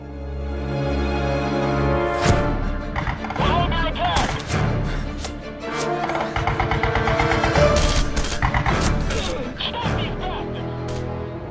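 Burst of automatic gunfire during a scripted execution scene in the Red Faction: Guerrilla video game, rapid loud shots with crashing impacts over a musical score, with dialogue around it.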